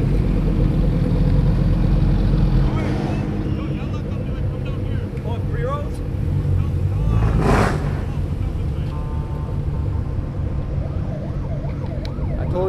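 More than fifty rally cars sit lined up with engines running, a dense, steady low rumble that swells slightly midway, while people talk over it throughout.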